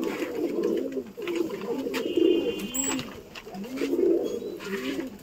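Pigeons coo repeatedly while drinking from freshly set-out water, a steady close chorus of soft rolling calls with faint chirps behind, no voices.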